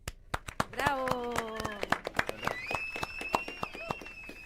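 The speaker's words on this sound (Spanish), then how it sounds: "Acá aplaudimos la versión" Audience clapping after a tango performance in a television studio, scattered sharp hand claps spread across the stretch while a voice sings or calls out over them.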